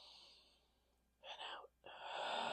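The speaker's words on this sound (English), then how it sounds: "Take a deep breath in" A slow, deep inhaled breath, close and soft against a quiet background, in two audible pulls with a brief pause between them.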